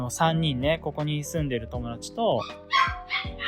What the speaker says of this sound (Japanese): おい、犬が鳴いてるな。